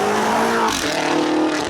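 Manhart MHX6 700 BMW X6M with over 700 horsepower accelerating hard: a loud, close engine roar that rises in pitch, shifts, and keeps pulling strongly through the whole short burst.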